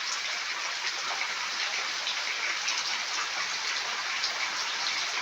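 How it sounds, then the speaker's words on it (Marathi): A dense, steady hiss of heavy rain falling without pause, close and even, with no voices. "पाऊस येतो तर मोठाच येतो."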